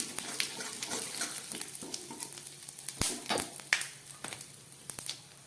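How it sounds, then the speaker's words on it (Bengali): Dried red chillies, bay leaf, garam masala and cumin crackling in hot oil, a steady close sizzle with sharp pops and spatters, loud and alone without talk. "এই গরম তেলের মধ্যে আমি দিয়ে দিচ্ছি 2টো শুকনো লঙ্কা ফোড়ন, সঙ্গে একটু তেজপাতা দিচ্ছি, আর দিয়ে দিচ্ছি একটু গরম মশলা আর জিরে।"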